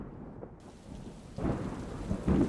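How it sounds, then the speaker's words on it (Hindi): Steady rain falling with a low rumble of thunder building toward the end, a dense wash of noise with no voices. "तो बारिश हो रही है।"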